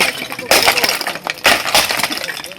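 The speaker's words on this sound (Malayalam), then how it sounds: "കുമരനെല്ലൂർ കുമ്പാര ഉന്നതിയിലെ നാട്ടുകാരാണ് മൺചട്ടി എറിഞ്ഞ് പ്രതിഷേധിച്ചത്" Clay pots thrown down and shattering on a broken village road during a residents' protest at Kumaranellur, Wadakkanchery, with two loud, sharp crashes of breaking earthenware about a second apart and scattered clinks of fragments.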